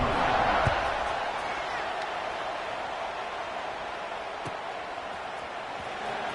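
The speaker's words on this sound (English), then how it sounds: "this crowd is buzzing after that last score" A stadium crowd buzzes in an NCAA college football video game after a score, a steady, fairly loud wash of massed voices with a few faint thumps.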